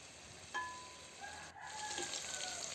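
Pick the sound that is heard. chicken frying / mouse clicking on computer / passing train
chicken frying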